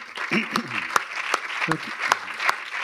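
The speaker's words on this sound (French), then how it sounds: "On peut les applaudir bien fort." An audience at an awards ceremony for the year's top advertisers applauds, with individual sharp claps standing out over a voice talking through the clapping.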